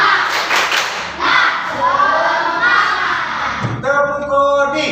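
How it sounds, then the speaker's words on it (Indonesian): A classroom of students performs a rhythmic spirit clap, a burst of patterned claps and thumps followed by loud chanting voices in unison, close and energetic. "coba tepuk semangat"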